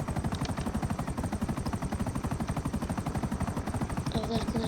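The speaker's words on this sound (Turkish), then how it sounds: "Bir arkadaşlar şurada bir helikoptere binelim." Helicopter in the video game GTA 5 with a fast, steady rotor chop, evenly pulsing and continuous at moderate loudness, with no one talking.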